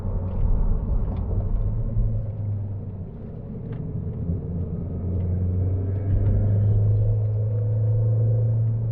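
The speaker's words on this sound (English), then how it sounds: "The engine noise is not all that inspiring." An Audi TT 225 engine drones as the car drives along, a low steady rumble heard from inside the cabin that swells slightly as the revs rise, with no other sounds over it.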